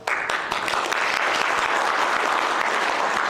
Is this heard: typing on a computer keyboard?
no